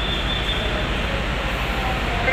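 Argo Wilis passenger train with a panoramic car, heard as a loud, steady rumble and roar of rolling wheels on the rails with no voices.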